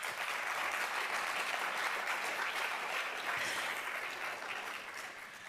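An audience at a national awards celebration applauds steadily, a dense wash of clapping that holds throughout and fades slightly toward the end, with no talking.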